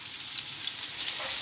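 Chopped garlic, ginger and onions sizzle in hot oil in a saucepan, a steady close frying hiss with faint crackles and no talking.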